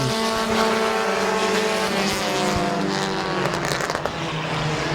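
Compact race cars roar around Midvale Speedway during a heat race, a dense, continuous engine drone with layered harmonic whines from several cars close by, steady and loud throughout with a brief surge near the end.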